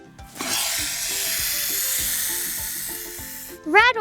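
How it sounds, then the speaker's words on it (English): A rattlesnake's rattle buzzes as a loud, steady hiss for about three seconds, then a short high whistle-like call follows at the end. "Rattlesnake."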